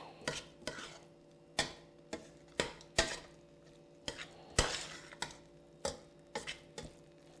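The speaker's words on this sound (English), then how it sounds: "Just keep stirring it until you don't see any dry flour left" Flour stirred into melted butter in a pan for chicken à la king, a utensil scraping and knocking against the pan in a steady series of sharp, close taps at roughly half-second intervals, with no talk.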